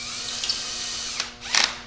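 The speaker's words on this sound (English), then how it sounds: "I'm using this power tool." A power tool drives titanium bolts while fitting a Scott's steering damper kit to a 2021+ KTM 1290 Super Adventure motorcycle, with a close, steady mechanical whir and brief ratcheting bursts near the end.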